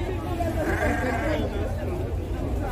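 Sheep bleat amid a busy early-morning sheep market in Cachoeirinha, Pernambuco, with constant crowd chatter and someone talking over the steady livestock hubbub.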